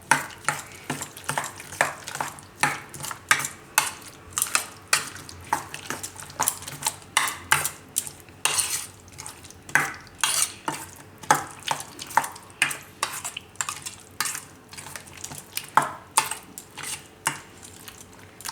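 A spoon stirs mixed vegetables and makhana into yogurt raita in a bowl, making a quick, regular series of wet clicks and scrapes, close and fairly quiet with no talk.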